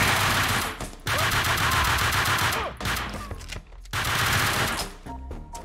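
Sustained bursts of loud gunfire in Max Payne 2, rapid shots in dense strings broken by short pauses, with clattering impacts and a few clinking sounds near the end.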